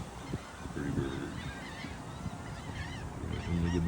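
Goose-like honking calls from a white-feathered bird, repeated in short bursts at close range over steady outdoor background noise.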